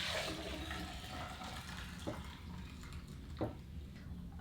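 Homemade almond milk poured into a jar for refrigerator storage, making a steady, quiet liquid trickle and splash with no talking.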